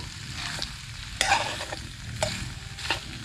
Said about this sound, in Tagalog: medyo alalayan na po agad ng halo para hindi magdikit